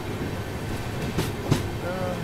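Train running between Bengaluru and Nanded, a steady rolling rumble with two brief louder knocks in the middle, recorded close by.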